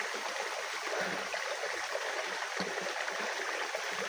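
Flowing water, a soft, steady hiss and trickle that continues evenly throughout, faint and alone with no voices.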